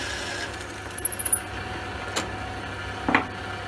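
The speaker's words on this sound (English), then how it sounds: "And just rapidly drill them all one at a time." A short whirring drill burst with a rapid ratcheting buzz boring through small geometric wooden beads, followed by a couple of sharp wooden clicks against a quiet background hum.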